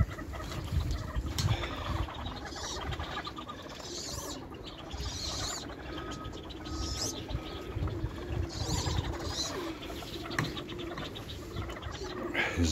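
Backyard chickens cluck after being fed, with ducks kept nearby, their clucks and calls scattered through a busy outdoor scene, close and fairly loud.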